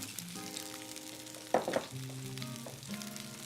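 Bok choy browns cut side down in a hot pan with a soft, steady sizzle and a brief louder crackle midway, close and quiet with no voices.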